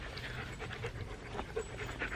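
A dog pants close by in quick, steady rhythmic breaths that stay soft and even throughout, with a few faint whimpery catches.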